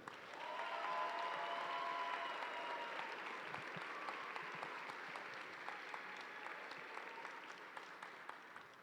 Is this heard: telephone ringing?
no